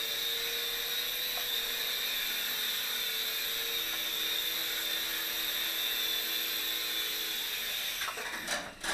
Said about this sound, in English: That is the Silverlit Sky Dragon. Pretty cool little helicopter.